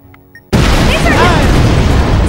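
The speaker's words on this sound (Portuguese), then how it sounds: "explodiu. Morri." A bomb goes off in a video game: after a quiet moment, a sudden loud boom erupts and a dense, roaring blast of noise sustains to the end.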